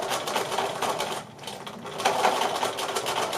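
A sewing machine runs in steady bursts while stitching a zip onto a cushion's zipped back, pausing briefly midway before whirring on at a close, even pace, with no talking.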